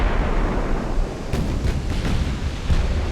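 Shells striking a ship in the naval game Ultimate Admiral: Dreadnoughts, a loud continuous rumbling roar with a few sharp impact bursts near the middle, heavy and booming with no talk.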